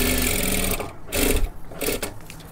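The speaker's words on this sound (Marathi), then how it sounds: "हे पहा अशा पद्धतीने एकदम 5 नंबरची शिलाई मारली तरी सुद्धा चालेल" A sewing machine stitches a katori blouse with a steady, close, fast mechanical whirr that halts briefly near one second and then restarts in shorter runs.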